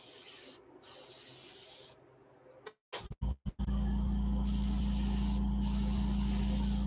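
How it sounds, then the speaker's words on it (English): An airbrush mists Createx paint onto the high sides of a light bluegill swimbait lure, a steady close hiss that starts and stops in short bursts and then runs continuously with a deep compressor hum beneath it. "I'm going to go ahead and spray just kind of along the high sides."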